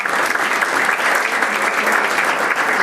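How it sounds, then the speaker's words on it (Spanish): An audience applauds three panel members at a certification conference panel, loud continuous clapping from many hands held at an even level for nearly three seconds. "Pido un aplauso para los tres."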